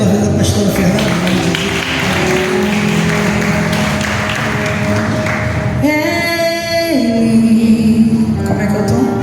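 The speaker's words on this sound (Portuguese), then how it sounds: "Aplauda Deus aí pela vida da pastora Fernanda" A church congregation claps together for several seconds, a dense rhythmic patter mixed with sustained music, before the clapping thins and an organ-like tone carries on.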